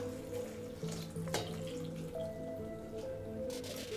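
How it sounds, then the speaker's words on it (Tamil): Water poured from a small pot into a pressure cooker holding chopped ridge gourd and moong dal, a steady close trickling and splashing running throughout with no talk. "இப்போ இது கூடவே வந்து தண்ணி ஒரு சொம்பு சேர்த்துக்குங்க."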